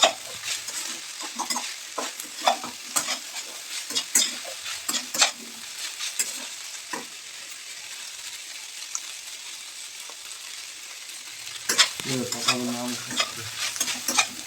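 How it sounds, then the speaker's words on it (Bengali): Pasta fried in a pan with vegetables and scrambled egg, stirred with a utensil: steady close sizzling under repeated scraping strokes, with a louder burst of frying near the end. "পাস্তা ভাজা ভাজা হয়ে আসছে এতে সবজিগুলো আর ডিম ডিমের ভুজিয়াটা দিয়ে দেবো দিয়ে ভালো করে নেড়ে ছেড়ে নেবো"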